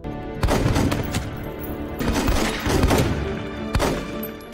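An action-film shootout: heavy gunshots crack out in rapid bursts, several loud, booming reports spaced through a few seconds, close and reverberant with no voices over them.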